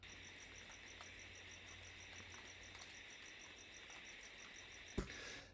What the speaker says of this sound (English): Just rain, crickets,